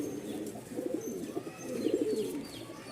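Silver-coloured Giribaz pigeons coo in soft, repeated low calls close by, a steady murmur with no talking.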